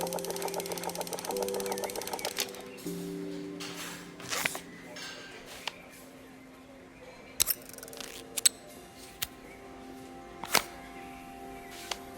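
Electric motor whirring in the puzzle repair game Assemble with Care: a steady, low mechanical hum with faint harmonics, broken by scattered sharp clicks and taps of handling parts, at moderate level.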